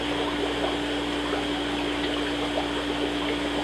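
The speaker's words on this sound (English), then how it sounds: "doing a large water change" Water runs steadily during a large aquarium water change, a continuous close trickling flow with a faint pump-like hum underneath, no talking.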